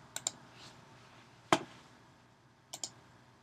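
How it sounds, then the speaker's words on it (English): Mouse clicks and keyboard keys on a computer, heard as a few faint, sharp clicks in three small clusters, mostly quick pairs, separated by quiet pauses. "So I click on custom decimal number and I type"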